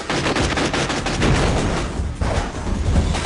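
Rapid bursts of gunfire and machine-gun fire crackle loudly and continuously through a movie trailer for a 2006 film, with no talking over them.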